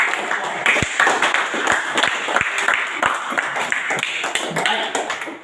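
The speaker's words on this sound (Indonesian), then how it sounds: "Ya, kita tepuk untuk." An audience in a classroom exam setting claps together, a dense patter of hand claps, close and steady for several seconds.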